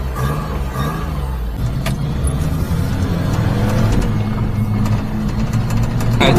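Mini-truck engine with a supercharger running hot, a loud close mid-pitched drone with steady rhythmic pulsing, slightly rising in intensity near the end.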